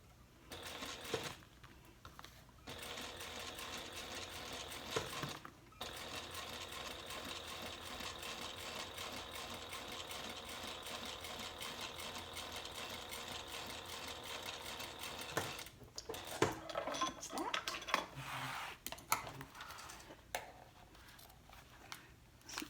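A sewing machine stitches the sides of a handbag to its main panel in long continuous runs of rapid, close mechanical clatter, stopping briefly between passes, with quieter handling noises near the end.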